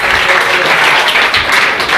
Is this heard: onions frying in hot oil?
no